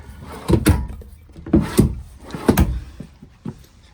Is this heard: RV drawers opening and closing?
yes